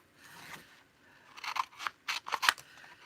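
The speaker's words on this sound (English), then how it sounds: "Just fussy cutting." Scissors fussy cutting paper at a craft desk, a series of close, quiet crisp snips that quicken into several sharper cuts toward the end, heard alone without talk.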